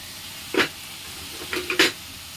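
Chopped capsicum fries in a pan, giving a low background sizzle with a few short scraping bursts as the pieces are stirred.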